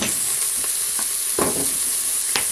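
Onions brown in a pan for a turkey curry sauté, giving a steady close sizzle with a few soft stirring scrapes.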